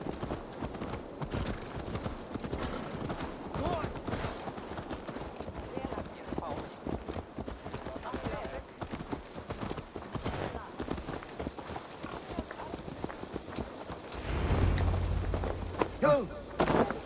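Horse hooves clip-clop in Assassin's Creed Valhalla, a steady run of quick hoofbeats with a voice speaking over them and a louder low rumble near the end.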